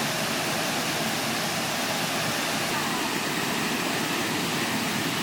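Steady roaring rush of Cheonjiyeon Falls in Jeju, South Korea, loud and unbroken broadband water noise with no other distinct sounds.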